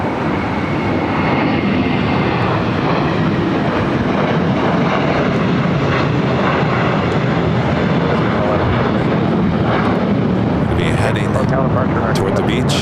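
A KLM airliner arriving at LAX from Amsterdam, flight 603, makes a continuous broad jet roar that holds steady throughout, with a voice faintly present underneath.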